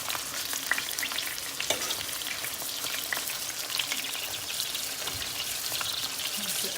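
Pork chops fry in a pan, a steady crackling sizzle with scattered sharp pops and spits running throughout, close and fairly loud with no voices.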